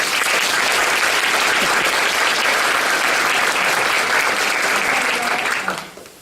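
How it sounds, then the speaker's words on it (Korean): Steady audience applause from trainees at a bank labour union's new-employee training session, loud, dense and sustained for about six seconds before cutting off sharply at the end. "힘내시라고 박수 한번 주세요"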